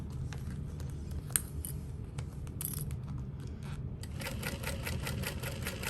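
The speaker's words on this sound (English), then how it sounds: "We're just gonna sew like 1/8 of an inch around the outer edge." A sewing machine stitches an eighth of an inch around the outer edge of a small parachute knapsack, a steady dense mechanical whir running continuously and close, with small clicks and a brief pause near the middle.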